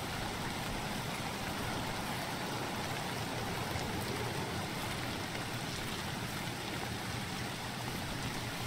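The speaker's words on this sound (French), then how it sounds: "avec la pluie, je n'entends plus" Steady rain in the video game Escape from Tarkov, a continuous even hiss with a low rumble underneath, lasting without a break and with no talk over it.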